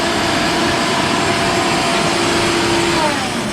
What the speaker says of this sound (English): Turn the vacuum off.